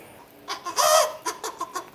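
A person mimics a chicken's clucking with voice, a few short bursts and one longer squawk, close and fairly loud.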